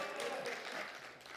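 Congregation applauding at an evening worship service in a church prayer retreat, a faint, steady wash of clapping that holds evenly through the short moment.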